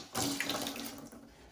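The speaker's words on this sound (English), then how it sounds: "One trick is to pour some water into it to create that suction that will draw most of the water out." Water poured from a container into a toilet bowl during bathroom remodel removal, a brief close splash and gurgle that fades quickly.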